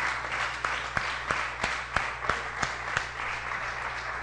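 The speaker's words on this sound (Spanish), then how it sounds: "Un aplauso a Kevin," Congregation applauding a church member at a service, a steady wash of many hands with a few sharp individual claps standing out at a regular beat, moderately distant and fairly soft.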